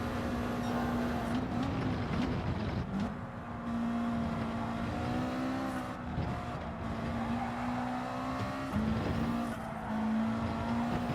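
A Subaru WRX race car in Gran Turismo 7 drones steadily through a rain-affected race at Spa, its engine note holding a continuous loud pitch with brief shifts and dips as it accelerates.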